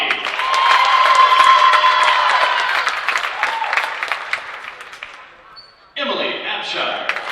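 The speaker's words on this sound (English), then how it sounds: "one more round of applause for each team" An indoor audience at an HCAC conference semifinal volleyball match between Transylvania and Mount St. Joseph applauds loudly and steadily with scattered cheers, fading out before a sudden burst of louder clapping and crowd noise at the end.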